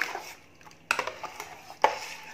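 A spoon stirs homemade sugar syrup into a mango mixture for a mango drink, giving soft scraping and two sharper clinks against the vessel, close and unaccompanied.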